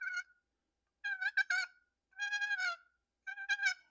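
Four short bursts of yelps from a friction turkey call, a pot or slate call, played alone in quiet, each burst a quick run of clucking notes with pauses between.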